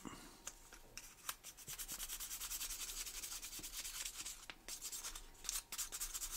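Fine sanding of Tamiya putty on a tiny Hot Wheels car body: soft, close, rhythmic rasping strokes in short bursts and longer runs, with occasional light clicks between them.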